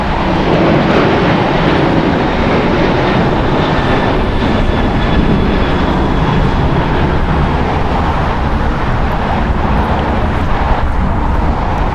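A Southwest airliner landing at LAX fills the air with a loud, continuous broadband jet roar, steady throughout with no voices.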